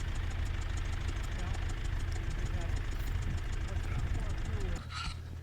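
A log skidder's engine runs steadily at idle, a low continuous rumble with slight knocking, close by, with faint voices under it before the sound drops off near the end.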